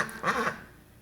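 A single duck quacks in a short nasal burst of about a quarter second from close by, then the sound trails off into quiet room tone with no talking.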